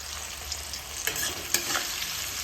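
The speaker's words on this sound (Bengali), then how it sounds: "ফুলকপিগুলো ভাজা হতে হতে এখানে আমার মশলাটা কিন্তু রেডি করা হয়ে গেছে।" Cauliflower florets sizzle in hot oil in a pan, a steady close frying hiss with a couple of sharper stirring clinks.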